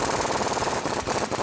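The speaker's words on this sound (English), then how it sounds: "Now we can go back and tighten down our axle nut." Impact wrench with a 36mm socket tightening the front CV axle nut on a Chevrolet Silverado 1500 4WD, a steady loud rattling hammer that runs continuously through the whole short burst with only brief dips.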